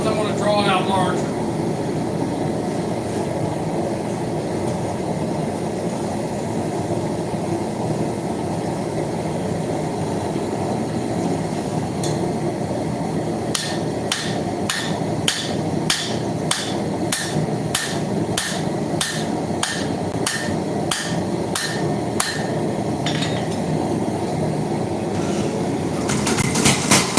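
A hammer strikes a railroad spike being forged into a tomahawk, a rapid run of sharp metallic blows ringing out over a steady shop hum after a stretch of low background noise.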